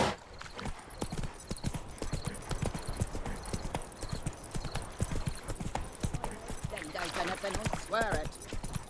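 Horse hooves gallop in The Witcher 3: Wild Hunt, a fast continuous clip-clop rhythm that runs throughout at moderate loudness, with a brief vocal or whinny-like sound near the end.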